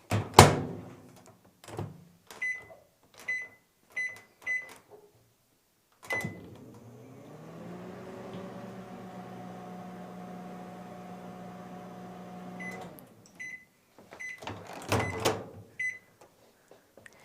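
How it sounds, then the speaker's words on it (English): A microwave oven runs on high for about six seconds of steady humming with a bag inside, framed by thunking door sounds and short beeps before and after. "microwave it for approximately 10 minutes on high"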